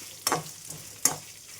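Ginger, garlic, coconut, coriander seeds and dried Byadgi chillies fry in a pan, with two sharp scraping stir strokes over a soft sizzle; no talking.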